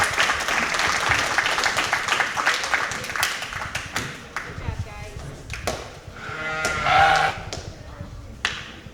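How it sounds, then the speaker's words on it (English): An audience claps at a junior fair sheep show in a barn, a dense burst of applause that thins out into scattered claps, with sheep bleating and voices audible nearby. "Let's give them a great big round of applause."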